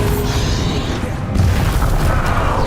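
The Bombarda blasting spell going off in Hogwarts Legacy makes a loud, sustained booming rumble with a dense low-end roar and a crackling burst partway through, and no voices are heard.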